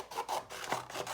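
Scissors or a blade rasp through paper while the sides of an explosion box are cut, a steady close scraping and rustling in short strokes over about a second, with no talking.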